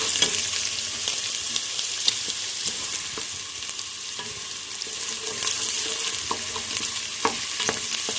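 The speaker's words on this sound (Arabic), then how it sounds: "احط عليهم البصل زي ما انتم شايفين كده، اشوح البصل شويه" Onions sautéing in a pan with half a spoon of ghee and two spoons of oil, a steady close sizzle with frequent scraping stirs throughout, no voices.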